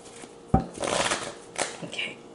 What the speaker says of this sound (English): Let's go ahead and give it a couple of shuffles.